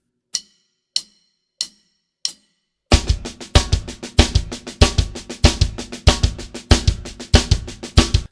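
A paradiddle drum pattern, first as a few sparse, evenly spaced sharp hits, then sped up into a fast, dense run of alternating strokes with accented peaks, close and loud.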